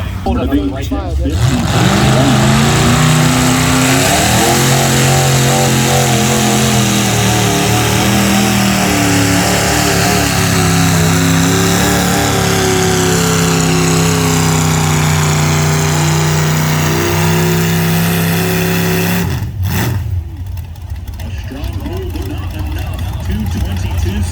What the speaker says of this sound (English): Next up, we're looking for Erica Anthony on her tractor, Grumpy's Toy.